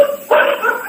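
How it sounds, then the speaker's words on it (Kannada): A dog gives one short, close yelp or bark that is sharply pitched and fairly loud, with no talk over it. "ಸ್ವಲ್ಪ ನಾಯಿಗಳು ಬೊಗಳ್ತಾ ಇದೆ ನೋಡಿ"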